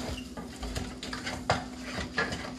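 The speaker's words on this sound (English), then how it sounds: "once you saute this a little" Ingredients are sautéed in a pan, with a faint sizzle under a run of metallic clinks and scrapes as a utensil stirs against the pan, close but quiet.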